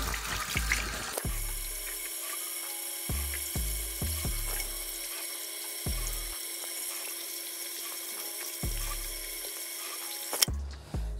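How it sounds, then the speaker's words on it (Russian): Tap water runs steadily as beard dye is rinsed off, a close hiss with irregular splashes and interruptions as hands move through the stream. "Краситель смываем просто водой."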